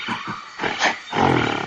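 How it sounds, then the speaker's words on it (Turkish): A loud gorilla roar in a forest-animal setting opens with a pair of brief grunts, then swells into a deep bellow and a sustained, rasping growl. "Goril."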